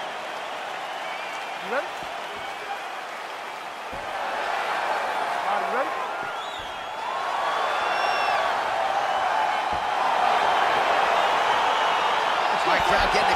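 In the video game EA Sports UFC 4, an arena crowd keeps up a steady roar that swells as the fight opens, heard under a commentator and a referee talking.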